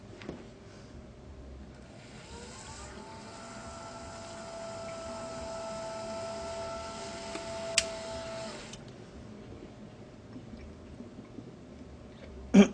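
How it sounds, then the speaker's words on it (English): An electric water-cooling pump in a PC home server build hums faintly with a steady tonal whine for several seconds while circulating coolant, then cuts off, leaving quiet room noise. "let's get the pump going"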